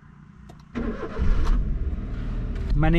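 A used Maruti A-Star hatchback cranks and starts under a second in, then settles into a smooth, steady idle close by, with a brief spoken word near the start.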